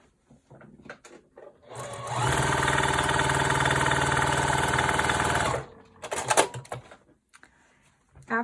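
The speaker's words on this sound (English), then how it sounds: "So let's sit down at the sewing machine." A sewing machine stitches two quilt fabric strips together, its fast steady run lasting about three and a half seconds before stopping, followed by quieter handling noises and faint voice sounds.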